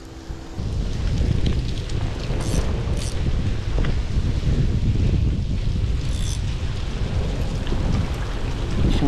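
Rain and wind outdoors, a loud continuous roar of rain with gusty wind buffeting the microphone, beginning abruptly after a brief quieter moment and holding steady to the end.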